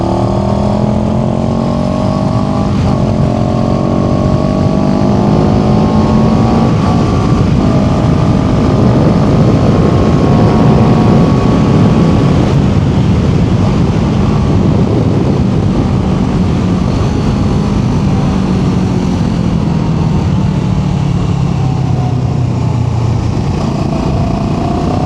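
Italjet Dragster 700 scooter engine on a ride, loud and continuous, with rising and falling pitch as the rider accelerates and eases off, under heavy wind rush throughout.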